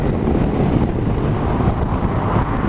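A 2019 BMW R1250RS motorcycle in sixth gear at about 3,800 rpm opens up and accelerates, its engine a loud, steady roar blended with heavy wind rush throughout.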